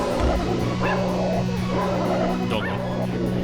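Hellhound dogs in the Quake video game snarl and bark in quick, yelping bursts over a steady droning game soundtrack, fairly close and loud.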